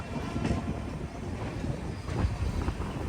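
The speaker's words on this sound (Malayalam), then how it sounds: "ഗാസിയാബാദ് ജംഗ്ഷൻ റെയിൽവേ സ്റ്റേഷനിലേക്ക് ഇതാ നമ്മുടെ ട്രെയിൻ എത്തിക്കൊണ്ടിരിക്കുകയാണ്" Train arriving at Ghaziabad Junction railway station on the Kochuveli to Rishikesh Express, a steady broadband rumble of wheels and carriages with swelling clatter, heard close from aboard, no voices.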